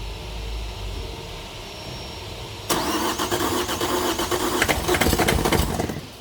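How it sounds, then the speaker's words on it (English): A Vauxhall Astra J with the A17DTJ diesel engine, which is failing to start, is cranked by its starter motor. After a quiet stretch the cranking begins abruptly and churns on loud and close with a rhythmic pulsing. "I'm going to crank the engine, so hopefully that will stay here."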